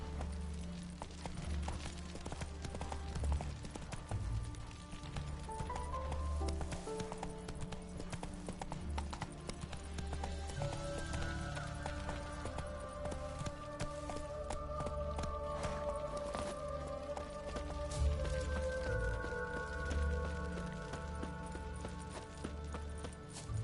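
Roach, the horse in The Witcher 3 video game, gallops with continuous rhythmic hoofbeats over a game music backdrop, steady and mid-level for the whole stretch.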